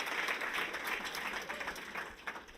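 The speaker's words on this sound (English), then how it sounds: "Let's give him another round of applause." An audience at a tech ecosystem event applauds, a dense, continuous patter of many hands clapping at moderate distance.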